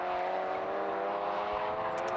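Race cars at speed at Anglesey Circuit during a BRSCC summer race weekend, a sustained loud engine roar from a distance, droning steadily with little change in pitch and no pause.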